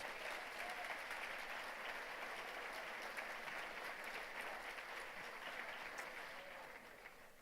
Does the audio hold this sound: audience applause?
yes